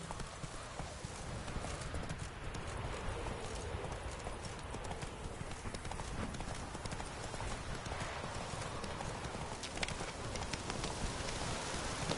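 Roach the horse gallops in The Witcher 3 video game, with continuous rapid hoofbeats at a fairly quiet level and a brief whinny.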